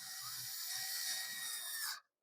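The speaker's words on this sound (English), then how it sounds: "You don't want to over tighten these screws." A power screwdriver drives screws into a plastic water-chiller housing with a steady, high-pitched whirring buzz and a faint ratcheting flutter underneath. It runs close and continuously for about two seconds, then stops abruptly.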